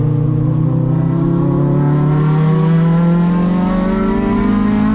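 A touring race car at Sonoma Raceway, down on power, its engine droning loud and close with a rising harmonic whine as it pulls through the gears, dropping into second and then climbing toward third, with no talk over it.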